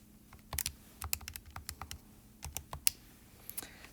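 Calculator keys tapped to enter a decimal number: a quick irregular run of about a dozen close, crisp clicks with short pauses between bursts.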